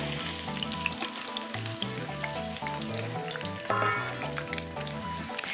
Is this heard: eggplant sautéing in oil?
yes